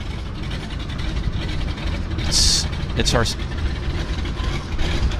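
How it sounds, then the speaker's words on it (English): Round radial engines of Beaver seaplanes at Vancouver's downtown harbour, a throaty belching drone rumbling steadily with a brief voice and sharp clicks over it. "I hear round engines belching away."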